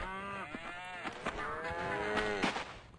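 Farm cows in Survivalcraft 2 moo in overlapping, drawn-out calls, several animals lowing one after another, close and clear, with small clicks and footsteps between them.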